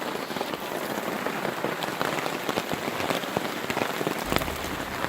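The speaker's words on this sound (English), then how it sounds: "It's pissing down rain." Heavy rain pours steadily onto a hammock tent at a campsite, a dense continuous patter close overhead with no voices.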